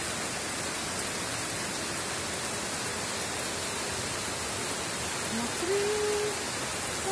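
Heavy tropical-style downpour hisses as a steady, dense broadband wash close by, with brief speech and a faint hummed tone near the end.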